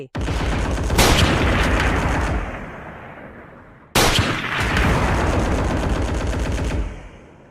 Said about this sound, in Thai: เสียงปืน M16 ดังรัวเป็นพืชพร้อมกันชุดใหญ่